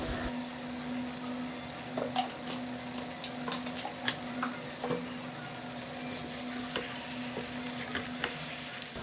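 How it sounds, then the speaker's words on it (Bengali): Mutton sautéing with Kashmiri chilli powder and coriander powder in a pan, a steady close sizzle with scattered stirring scrapes and small pops throughout. "দিয়ে মাংসগুলো বেশ ভালো মতো কষিয়ে নেব"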